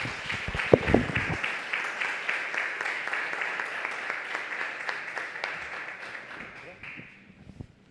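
A church congregation claps together at the close of a Portuguese-language service, steady sustained applause from start to finish that fades out near the end, with a few louder claps early on.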